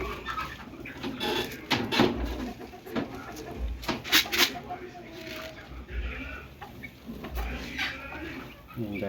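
Pigeons being fed coo softly in a low, repeated murmur, with scattered bird calls and rustling nearby and a voice talking over them.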